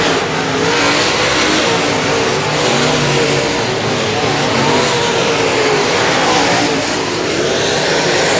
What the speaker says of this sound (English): slicing and dicing through lap traffic here in your Texas Outlaw Modified feature